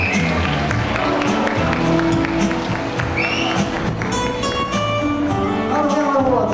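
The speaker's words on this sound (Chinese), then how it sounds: "掌声恭喜你获奖" A crowd applauds the Fujian-group winner at the Hakka and Hokkien singing competition grand final in The Mines Shopping Centre, with steady, dense clapping close by throughout, layered over murmuring voices and faint background music in a busy mall hall.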